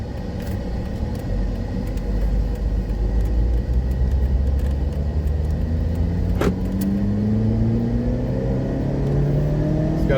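A 2011 Dodge Avenger's 176-horsepower four-cylinder with a four-speed automatic pulls steadily from inside the cabin, a constant low rumble with engine tones climbing as it accelerates through the gear, no talking over it.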